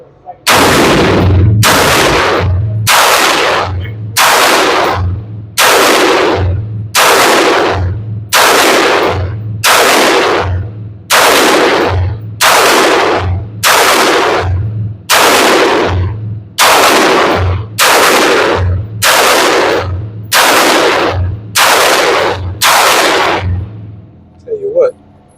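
A gun being fired through a full magazine while troubleshooting light primer strikes, about sixteen loud, evenly spaced shots roughly one and a half seconds apart, each with a short booming tail, very close and dominant.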